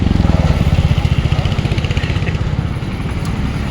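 A motorcycle engine idles loudly and close at a checkpoint on a winter road trip toward Dehradun, its steady rapid thumping pulse continuing throughout.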